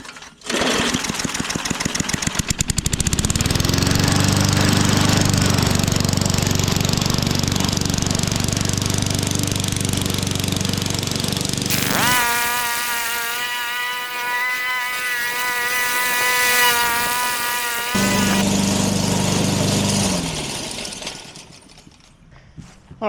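A junk lawn mower's small engine, fitted with a replacement carburetor, starts and runs steadily with a loud buzzing drone, briefly shifting to a higher whining pitch midway before settling back and cutting off near the end.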